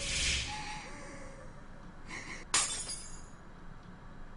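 Glass shattering in the horror video game Mad Father, a single sharp crash with a bright, splintering burst at mid-clip, set against a quiet ambient background.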